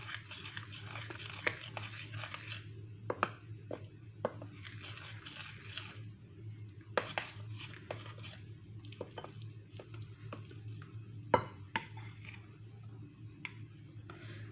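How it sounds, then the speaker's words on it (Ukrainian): Khachapuri dough being mixed with a spoon in a bowl, with irregular soft scraping strokes and scattered light clicks and taps, close and fairly quiet over a steady low background hum. "І буду розмішувати ложкою поки що."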